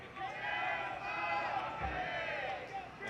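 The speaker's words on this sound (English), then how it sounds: "Hear the crowd chanting, Tampa Bay," Soccer stadium crowd at a Tampa Bay Rowdies versus Indy Eleven match chanting in unison, a distant, sustained rising and falling roar of many voices filling the stands.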